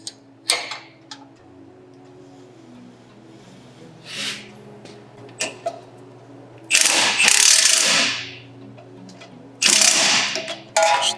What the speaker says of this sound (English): Now we're tightening up the cam tab nuts and bolts on the lower control arm